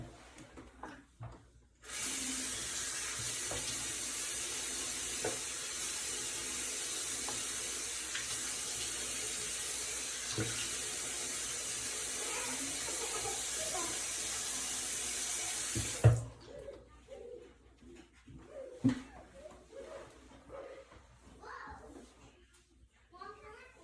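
Tap water runs in a steady, bright, close rush for about fourteen seconds while hair is wetted down for a men's haircut, then stops, and voices talk quietly afterward.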